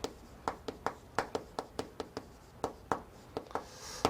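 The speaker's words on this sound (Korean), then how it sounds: "그대로 써볼게요" Someone writes on a board in quick, evenly spaced strokes that tap sharply and close by, about a dozen in a row with no voices.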